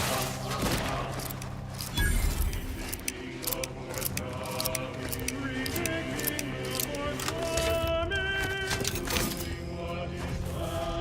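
Gunfire from a weapon in The Outer Worlds 2, a dense stream of repeated shots with a heavy burst near two seconds, layered over game music and effects and sounding close and loud throughout.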